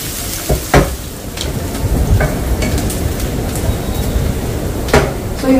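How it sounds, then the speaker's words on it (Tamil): Onions fry in a pan with a steady, loud, close sizzle that runs throughout, dotted with a few sharp clicks and utensil taps. "வெங்காயம், கொஞ்சம் கோல்டன் கலர் ஆகிற அளவுக்கு ஃப்ரை பண்ணிக்கலாம்."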